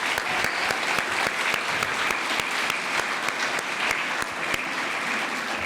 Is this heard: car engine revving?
no